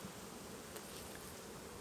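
Honey bees buzz in a low, continuous hum at an apiary, faint and steady throughout the short clip, with no speech.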